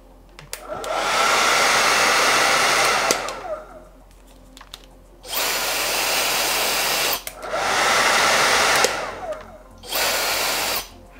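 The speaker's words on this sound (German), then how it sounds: "Der normale Föhn, den wir bisher hatten, klingt halt so." A conventional hair dryer blows in four loud bursts, switched on and off with short quiet gaps between each steady whooshing run.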